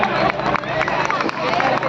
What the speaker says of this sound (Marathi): स्टेजच्या दोघं बाजूने, समोर आणि उजव्या बाजूने पण जोरदार टाळ्या होऊन जाऊ द्या